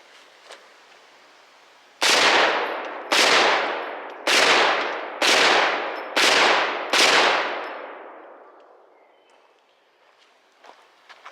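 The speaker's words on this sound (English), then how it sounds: "So this is the first shots, and we're gonna go ahead and finish off that old Kohler once and for all." Six loud rifle shots, fired with 300-grain rounds at an old Kohler K321 engine, crack out at roughly one-second intervals, each with a sharp metallic clang and ringing decay, followed by quiet with small knocks.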